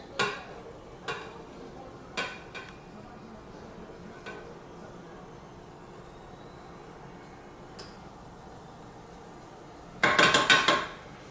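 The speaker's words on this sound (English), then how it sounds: "Now what we're going to do is add our ground beef back in." Cooked ground beef added back into a pan and stirred: scattered utensil taps and clinks against the pan, then a loud burst of rapid scraping and clattering near the end.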